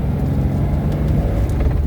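A 1969 Porsche 912 engine drones steadily while driving in second gear, a loud, close, continuous low rumble from inside the car with no talk.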